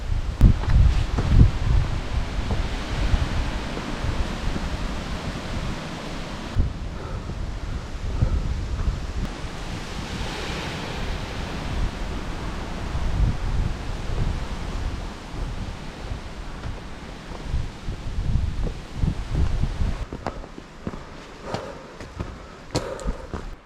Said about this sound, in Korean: 바람이 엄청 불고 있습니다 지금